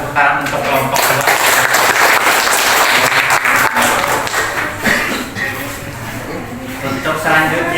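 Classroom audience clapping for a student group after its presentation, loud dense applause that swells and then thins toward the end, with voices mixed in.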